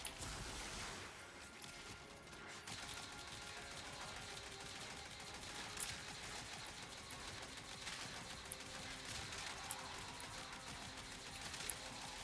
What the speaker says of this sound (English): I'm gonna throw an alternate fire here.